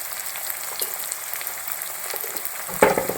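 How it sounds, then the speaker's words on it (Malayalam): Long-sliced big onion frying in oil with a little salt, a soft continuous sizzle under faint scrapes, ending in a brief louder stir. "ഇനി സവോള ഇട്ട് കൊടുക്കുന്നു ഒരു സവോള വലിയ സവോള ഇങ്ങനെ നീളത്തിൽ വരുന്നത്"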